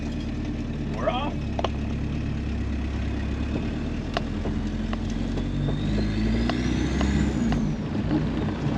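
A Volkswagen Caddy turbo diesel, a rescued scrapyard vehicle, pulls away in first gear, its engine a loud, steady low drone with a faint rising whine from inside the cabin.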